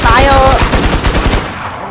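Automatic gunfire from the video game Infestation on the Rocky Ford map comes as a loud, rapid burst of shots lasting over a second before cutting off into a fading tail.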